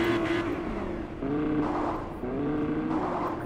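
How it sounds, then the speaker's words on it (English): A car in the Fortnite video game drives nearby, its engine droning and revving in waves with rising and falling pitch, fairly close and continuous, with no talk over it. "Someone's in a car close to me."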